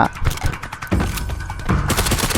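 Rapid, loud MK12 rifle fire from the video game Sausage Man, a close series of sharp shots repeating without pause across the whole moment.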